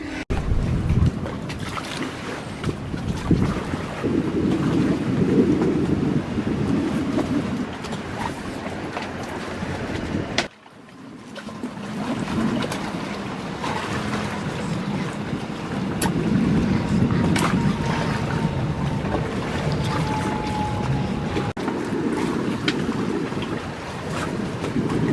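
Wind blows around a moored liveaboard sailboat, a loud continuous rumbling buffet with creaks and rigging tones, cutting out briefly midway before the gusting resumes, no voices.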